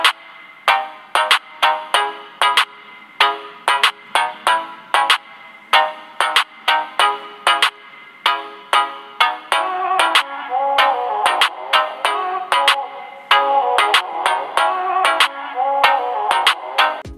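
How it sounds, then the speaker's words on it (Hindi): A DT 8 Ultra smartwatch plays music through its small built-in speaker, producing a thin, bright, rhythmic tune of repeated plucked and percussive notes with no bass, heard alone at steady volume. "ये था इसी स्मार्ट वॉच का म्यूजिक साउंड टेस्ट"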